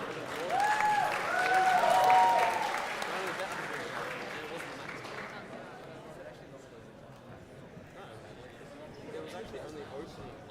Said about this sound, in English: Can we get a round of applause going, guys? Let's cheer them on.